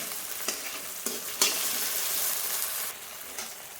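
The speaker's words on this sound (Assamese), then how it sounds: "অলপ হাফ ফ্ৰাই কৰিম" Elephant apple (outenga) pieces half-frying in a pan, with a steady close sizzle and a few soft stirring scrapes, loud and alone without talk.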